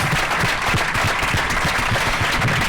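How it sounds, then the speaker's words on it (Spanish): Audience applause after a film analysis talk at the Sitges Festival, a dense, steady wash of many hands clapping at close range throughout, with no voices over it. "Un aplauso para vosotros."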